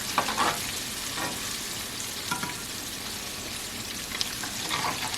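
Shrimp frying in hot grease: a steady, continuous crackling sizzle with small popping bursts, close and moderately loud, with no talking over it.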